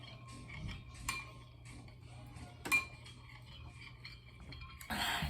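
Lumpy yeast mixture being stirred in a bowl for homemade deep-dish pizza dough: a spoon lightly clinks and scrapes against the bowl in irregular taps, close and quiet, with no talking.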